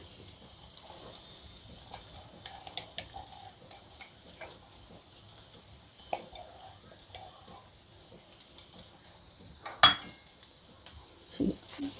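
Tender tamarind leaves are stirred into a pan with eggplant and green chili, giving a faint, soft sauté sizzle. Sparse scrapes and clicks of a spoon against the pan mark the stirring, with one sharper knock near the end.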